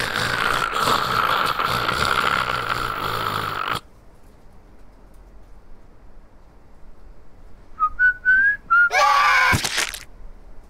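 A few short rising whistled notes in a video game arrive in quick succession, loud and close, after a dense, noisy stretch gives way to near silence.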